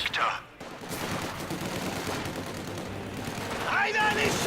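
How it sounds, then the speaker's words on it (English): Company of Heroes 2 combat with the M3A1 scout car's front-mounted .50 caliber and rear .30 caliber machine guns firing, a dense steady clatter of gunfire and battle noise running throughout, with brief game sounds near the start and end. "The scout car, the M3A1, 50 caliber mounted on the front, 30 caliber on the back."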